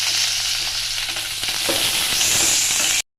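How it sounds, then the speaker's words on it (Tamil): Onions and curry leaves sautéing in hot oil for a vegetable kurma, a steady close sizzle with light stirring scrapes throughout, stopping abruptly near the end. "அதில் வெங்காயம், கருவேப்பிலை சேர்த்து நல்லா வதக்கி வச்சுக்கணும்."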